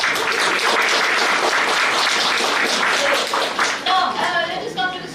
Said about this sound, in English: I think there should be a round of applause for it.